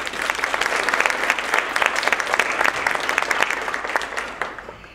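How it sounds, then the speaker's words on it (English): An audience claps for event sponsors at a speaking event, a dense, steady round of applause lasting several seconds with no voices over it. "So I'd like to give them a round of applause"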